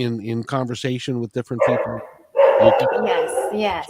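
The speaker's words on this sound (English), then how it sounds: "That's my Australian Shepherd" An Australian Shepherd barks a few times, sharp and fairly loud, partway through and under overlapping conversation from nearby speakers.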